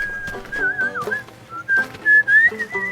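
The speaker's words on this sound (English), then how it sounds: "What did I tell you about whistling?" A person whistles a wandering, sliding melody close up, with bright sustained notes and short breaks, against faint background sound.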